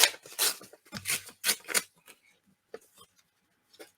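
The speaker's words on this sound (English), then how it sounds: "This page, I'm just going to fold this over and tear it here." A journal page is folded over and torn along the crease, giving several short, close ripping bursts in the first two seconds, then a few faint paper rustles with quiet gaps between them.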